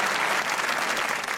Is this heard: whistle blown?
no